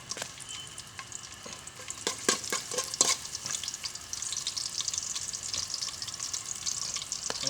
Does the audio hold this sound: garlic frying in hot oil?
yes